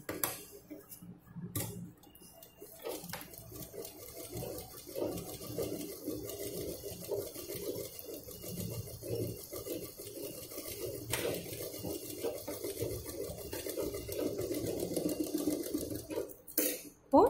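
A sewing machine runs steadily and fairly quietly for a long stretch, stitching several stacked cloth layers together in one seam, with occasional clicks and a brief louder knock near the end.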